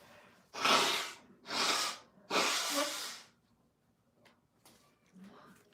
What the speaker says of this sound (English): Pardon me while I blow my nose.